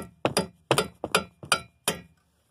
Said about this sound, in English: I'm going to hold this little tool up here, and I'm going to bang the end of this with this hammer.